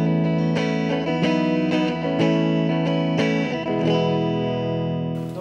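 An electric guitar played through the distortion channel of a Yamaha amplifier rings out in a run of strummed, sustained chords with a gritty, effected tone, loud and alone with no talk.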